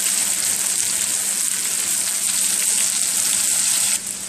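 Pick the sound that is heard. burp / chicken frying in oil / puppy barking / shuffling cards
chicken frying in oil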